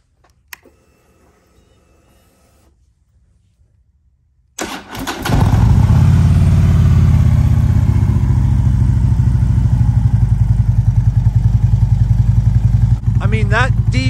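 After a few seconds of near silence and a faint voice, a Harley-Davidson Dyna Wide Glide motorcycle engine cranks and catches, then idles loudly with a steady throbbing rumble and brief revs.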